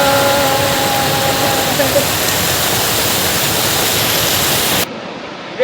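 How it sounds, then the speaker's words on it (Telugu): Ettipotala waterfall near the Telangana–Karnataka border roars as a loud, broad, unbroken rush of falling water, a faint whistle-like tone passing early, before the sound cuts off abruptly near the end. "ఇదే అండి ఎత్తిపోతల వాటర్ ఫాల్స్."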